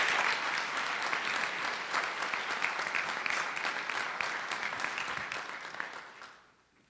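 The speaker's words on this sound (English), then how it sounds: "How about a round of applause for Marilyn?" Audience applause for a student at a charter school Charter Day ceremony, a steady, dense roar of many hands clapping that holds evenly for several seconds before tapering away at the end.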